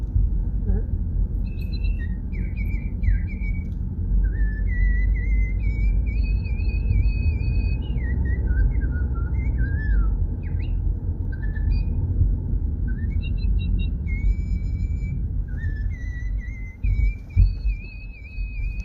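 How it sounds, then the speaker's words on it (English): A bird sings a string of bright, whistled phrases with short pauses, heard over a constant low roar of traffic or wind. "We have a bird with us. You can hear."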